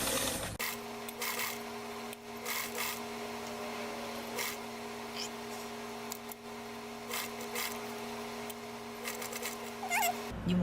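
A Simplicity A8010 sewing machine stitches fabric with a steady, faint motor whir that runs almost unbroken, lightly dotted with small clicks and rubbing noises, and no talking.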